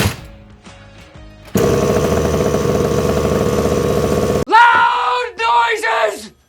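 A Rovan Rofun 5TS MAX RC car's nitro engine fires up and idles with a loud, dense buzzing rattle for about three seconds, then cuts off abruptly. A voice then yells loudly.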